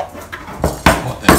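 A few scrapes and clatters as steamed yam cake (orh kueh) is scooped out of its tray into a pot, with four spaced metallic knocks and scraping sounds growing louder toward the end, no talking.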